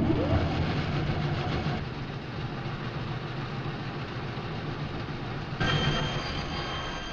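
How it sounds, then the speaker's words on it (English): Woodworking mill machinery at a film studio, with bandsaws, ripsaws, sanders and planers running together in a steady, dense industrial din. A louder surge of noise comes near the end. "The sounds of war in the mill are the sounds of bandsaws and ripsaws and sanders and planers."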